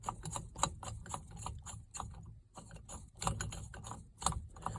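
A puller bar is screwed in against the steering bolt of a 1978 GMC during turn signal switch replacement, giving steady, busy clicking and ratcheting that runs throughout at close range.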